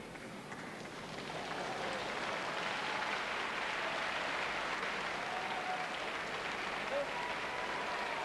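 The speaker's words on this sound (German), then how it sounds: "Aufmunternder Applaus zwischendurch von den Zuschauern." Audience applause at a 1990 World Cup climbing competition in Lyon, a steady sustained clapping from a crowd that swells after the first second and holds evenly throughout.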